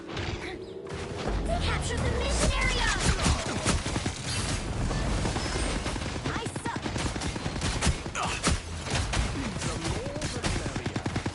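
Rapid gunfire from a Marvel video game played as Psylocke, with dense bursts of shots and mechanical clatter running loudly and continuously alongside game effects.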